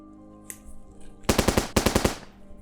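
A voice imitates machine gun fire in two rapid bursts of sharp staccato bangs, close and loud, after a brief quiet lead-in with no words.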